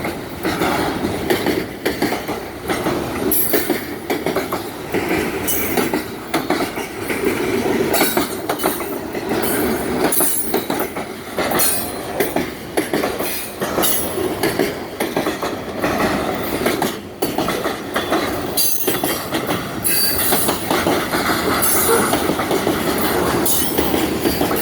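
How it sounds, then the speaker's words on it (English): An Indiana & Ohio Railway freight train rolls past near Riga, Michigan, hauling gondolas loaded with scrap metal and bulkhead flat cars. A loud, close, continuous rumble carries a steady clickety-clack of wheels over rail joints, with no talking. "There's an actual Indiana Ohio Railway bulkhead flat car. Wisconsin Central gondolas."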